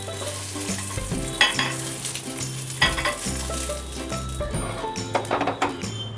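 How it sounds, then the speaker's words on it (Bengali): Eggs sizzle and crackle as they fry in oil in a pan, with a few sharp clinks and scrapes of a utensil against the pan over a steady bubbling sound. "আমার ডিমগুলো ভাজা হয়ে গেছে"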